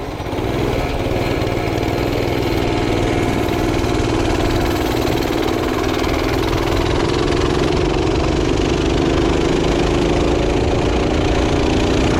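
A revived minibike's small engine runs loud and close for the whole stretch, a steady buzzing drone whose pitch climbs gradually as the throttle is opened, with a faint rattle from a vibrating gas tank.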